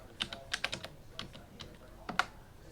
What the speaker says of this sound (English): all I have to do is type keywords